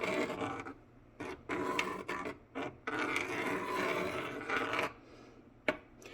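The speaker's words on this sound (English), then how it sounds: "So at this point where it's starting to boil up, I'm just going to keep stirring" Curried rice being stirred in a pot as it starts to boil, giving repeated scraping, rasping strokes of a spoon against the pot, close and steady with brief pauses between bursts.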